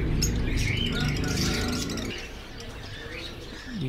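Caged finches chirp at a Sunday bird market on Kasi Road in Quetta, with bright overlapping tweets and a pigeon-like coo mixed in, under a voice talking over the market bustle.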